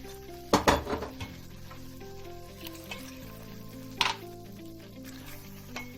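Water poured into a pan of simmering bakla (broad bean) dish, setting off a burst of sizzling and bubbling with a couple of sharp clinks of utensils against the pot, then a quieter steady simmer.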